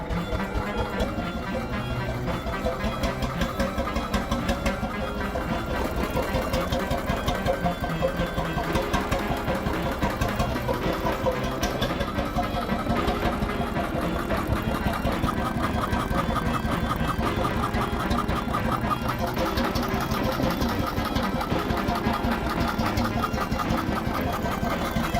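A 100-horsepower hot bulb engine runs loud and close, with a steady rapid mechanical knocking and clatter that holds unbroken throughout the long stretch.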